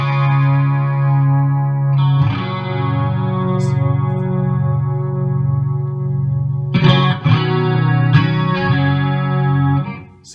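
Electric guitar run through a Fractal AX8 processor into a Suhr amp used as a power amp, with a cab, playing sustained distorted chords with chorus, alone and loud throughout, a strummed chord change near two seconds and a fresh attack near seven.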